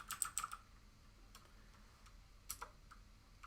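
Someone types on a computer keyboard while writing HTML code, producing a quick burst of clicks at the start, then a few sparse keystrokes later, close and crisp in a quiet room.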